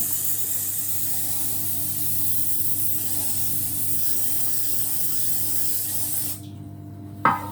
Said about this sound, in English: he sprays the bottom and sides of the pan